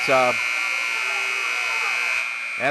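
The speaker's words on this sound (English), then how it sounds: "The buzzer went off and no one was at the scores table to stop it" A basketball scoreboard buzzer sounds loud and steady in a high school gym during a game, a harsh continuous drone with people's voices breaking in at the start and end.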